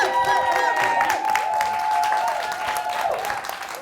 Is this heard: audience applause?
yes